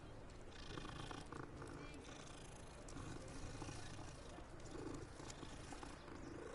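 A cat in the video game Hogwarts Legacy purrs steadily as it is petted, a soft continuous rumbling drone under a dense layer of game ambience and music.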